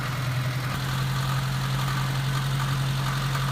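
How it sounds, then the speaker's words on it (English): A car motor running steadily with a strong low hum, close and continuous, with no clear rise in revs, during a charging voltage check. "if I rev the motor up"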